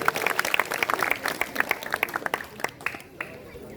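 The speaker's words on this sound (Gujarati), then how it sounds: "આપણે તેમનો આભાર માનીએ તાળીઓથી" Audience applause at a girls' school graduation ceremony: many hands clapping in a quick, dense patter that fades out toward the end, with a voice speaking over the room.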